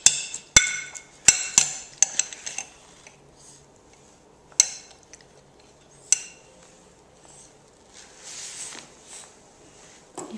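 A spoon clinks sharply against a dish several times as a young child eats, with irregular metallic taps in a quiet room.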